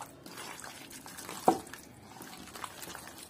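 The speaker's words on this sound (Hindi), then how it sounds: "तो इसको हम अच्छे हाथ से मिक्स करेंगे।" A chicken pakora marinade of chicken and spices being mixed by hand, giving faint, wet squelching and dripping sounds with one sharper splat in the middle, no voices.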